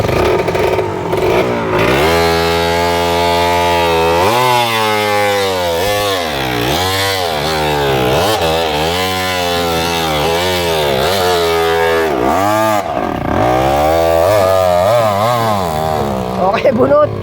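A dirt bike motorcycle engine revs loud and close, its pitch repeatedly rising and falling through a rapid series of throttle blips, with voices talking over it.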